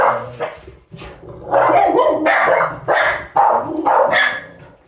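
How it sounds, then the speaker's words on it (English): Several excited dogs bark indoors at people walking by outside, a close, loud run of repeated barks and yips in bursts with short gaps between them. "dogs are excited because"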